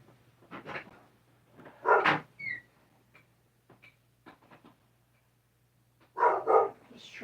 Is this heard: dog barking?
yes